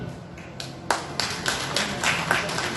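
Scattered hand claps at a Chhattisgarhi cinema award show, a few separate sharp claps spaced irregularly rather than full applause, fairly close.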